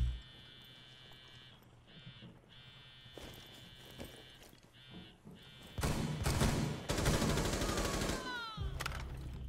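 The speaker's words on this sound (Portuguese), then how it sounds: "Não pega os tiros de 12!" Game gunfire erupts in loud rapid bursts after a quieter stretch of beeps and electronic tones, with a brief pause before more shooting.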